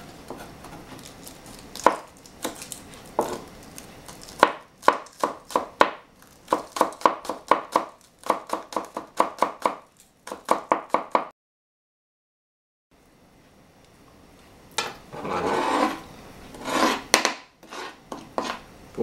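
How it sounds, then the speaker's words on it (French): A knife chops green onion very finely on a board in quick rhythmic bursts of sharp close taps, with short pauses and a brief silence between runs. "On va commencer par l'oignon vert. Qu'est-ce qu'on essaie ici de faire? C'est un émincé le plus mince possible."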